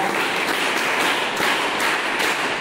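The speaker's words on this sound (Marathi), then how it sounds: "आपण त्यांच्यासाठी जोरदार टाळ्या वाजवूया।" An audience at a school's Republic Day prize distribution ceremony claps steadily and densely throughout, a sustained wash of many hands applauding together at moderate loudness.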